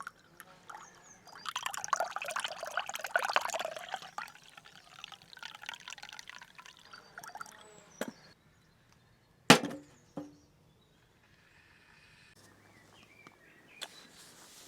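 Hot drink poured from a plunger press kept warm on a wood stove at a camp: a soft, splashing pour for a few seconds, followed by quiet clinks and small knocks in an otherwise still setting.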